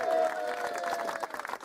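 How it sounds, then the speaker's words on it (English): Applause and a few cheers from wedding guests for a newly handfasted husband and wife, a steady clatter of clapping over crowd murmur that holds for under two seconds. "So give them a round of applause for it."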